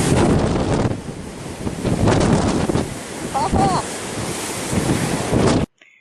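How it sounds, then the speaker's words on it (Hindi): Large ocean waves crash against the bow of the Royal Caribbean cruise ship Liberty of the Seas, heavy surging roars rising and falling amid strong wind buffeting the microphone, loud and close, then cutting off abruptly near the end. "ये हमारे शिप के आगे से आती लहरें शिप से टकराकर और भी ऊंची उठ रही"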